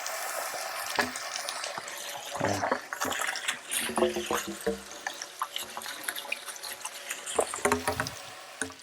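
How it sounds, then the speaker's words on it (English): Water from a hose splashes and flows steadily close by while rinsing an RV's black and gray tanks, with a brief spoken word near the start. "come back over here to our water supply. and give it a little bit of flow."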